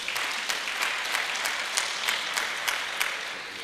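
An audience applauds a preschool teacher at a teacher award ceremony, a sustained round of clapping with a few sharper individual claps standing out near the end.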